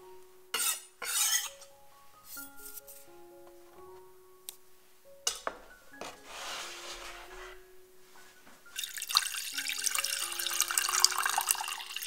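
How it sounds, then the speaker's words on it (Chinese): Water poured into a small pot in a kitchen making French chocolate cake, a splashing gush that swells to a steady rush near the end, preceded by clinks and stirring sounds under soft background music. "在小锅里加水。"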